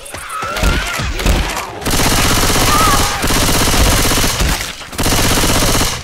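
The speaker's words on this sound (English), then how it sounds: "Shoot that zombie in the back!" Rapid automatic gunfire aimed at a zombie in Left 4 Dead 2, loud sustained bursts of close shots broken by brief pauses, with faint game noise between volleys.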